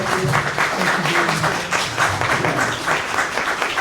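An audience applauds candidates at a House District 51 political forum, with sustained, evenly spread clapping from a seated crowd filling the whole stretch.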